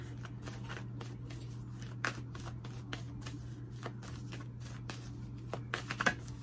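Close, crisp riffling of tarot cards being shuffled, a run of quick papery flicks with a few sharper snaps near the end, over a steady low hum.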